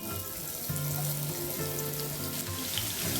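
Mustard seeds, cumin and chopped onion sizzling in hot oil for a stuffed onion curry, a soft, steady crackling hiss that goes on unbroken with no voices.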